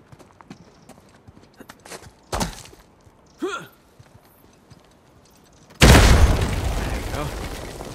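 A loud, sustained explosion erupts near the end, roaring and rumbling for several seconds after quieter scattered thuds and a brief whooshing burst earlier, in the video game Uncharted 4: A Thief's End.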